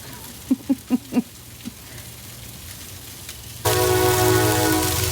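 A few soft knocks, then a loud rumbling roar with a sustained tonal hum suddenly takes over, a train passing fairly close.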